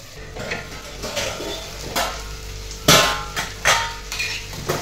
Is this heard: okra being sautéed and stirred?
yes